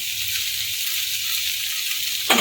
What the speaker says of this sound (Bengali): এখন ভেজে রাখা মাছটা এর মধ্যে দিয়ে দেবো